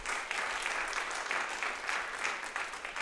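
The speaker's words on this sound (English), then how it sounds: "Yes, please applaud." An audience applauds at a talk event, a continuous dense patter of many hands clapping at moderate distance, steady throughout without voices.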